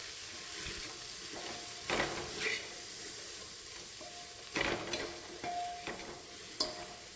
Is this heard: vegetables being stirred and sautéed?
yes